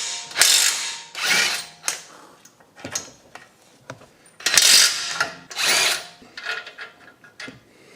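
Impact gun removing the 21mm front brake caliper bolts on an Audi Q3, heard as repeated loud rattling hammering bursts of about a second each, spaced by brief pauses, up close with no voices.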